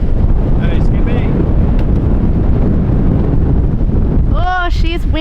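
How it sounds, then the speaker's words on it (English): Strong wind at Border Village on the Nullarbor buffets the microphone with loud, steady, rumbling gusts. Near the end a voice cuts through the roar. "Oh, she's windy here."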